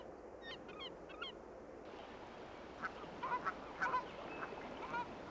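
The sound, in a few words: Canada geese honking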